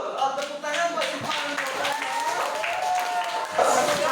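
A classroom claps for a student, a short burst of scattered applause from several people over a cluster of children's voices.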